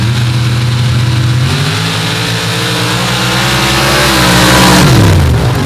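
Drag racing cars, including a big Ford from Nebraska, roar loud and close as they launch down the strip, engines holding a steady howl that climbs as they accelerate, then drops in pitch near the end.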